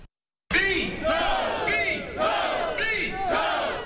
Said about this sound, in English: A lunchtime crowd of about 200 union members, liberal activists, and community leaders came together